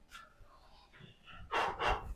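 A dog gives two loud, close barks in quick succession after some quieter snuffling and breathing sounds.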